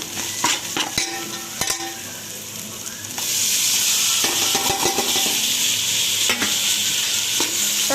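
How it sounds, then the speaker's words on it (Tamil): Tomatoes for a dum biryani are sautéed in a pan, giving a loud, close sizzle that swells into a steady hiss partway through, with scraping stirs and occasional clinks of the utensil against the pan. "இதையும் சேர்த்து நல்லா வதக்கி விடுங்க."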